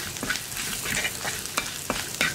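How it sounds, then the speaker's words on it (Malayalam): Onions and asafoetida fry in a clay pot for lentil curry, with repeated scraping stirs cutting through a steady close sizzle at a regular rhythm, no voices. "വീണ്ടും ഒന്ന് ഇളക്കി കൊടുക്കുക"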